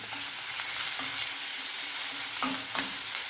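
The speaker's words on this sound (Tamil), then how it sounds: "சின்ன வெங்காயம் கொஞ்சம் நல்லா வதங்கணும்" Steady hiss of chopped shallots sizzling and frying in a pan, with occasional soft scrapes of stirring, close and continuous.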